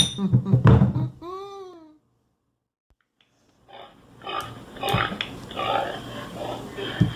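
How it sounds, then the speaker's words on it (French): A pig gives loud, close snorting grunts and a rising squealing oink, then the sound stops for about two seconds. Snuffling grunts and breathy snorts follow. "Cochon."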